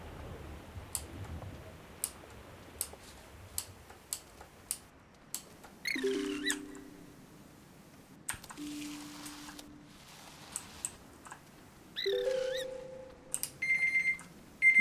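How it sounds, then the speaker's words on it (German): Electronic alarm clock in the game Fe ringing in short chirping bursts of rising tones, separated by pauses and preceded by a series of sharp ticks and clicks, fairly quiet with no talking. "Das ist der Wecker"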